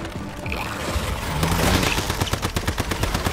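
Rapid gunfire from the video game Once Human rattles in a fast, rhythmic burst, building from scattered shots into sustained automatic fire, moderately loud with no talk.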